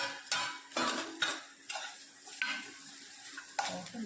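Spiny custard apple (soursop) pieces sautéed with onions in a pan for sambar, with a spoon scraping and stirring in several quiet, separate strokes over a faint sizzle.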